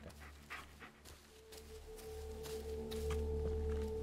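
A dog panting in the horror video game Blair Witch, quick rhythmic breaths close by over a low humming drone and faint footsteps.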